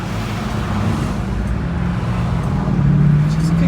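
A 1966 Ford Mustang convertible cruising on a test drive, its engine a steady low drone with road and wind noise, rising slightly near the end, heard from inside the car.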